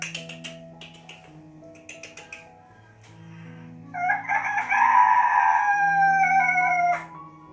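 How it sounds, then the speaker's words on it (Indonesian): A rooster crows once, loud and drawn out, after several quieter clucks and soft background sounds over a musical backdrop. "Demikian kokokan terakhir dari sang ayam."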